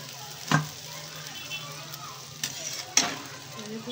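Chicken pieces drop one by one into reduced, simmered-down masala in a pan and sizzle, with soft frying crackle and a few sharp clacks from a spoon stirring, close up and alone without talk.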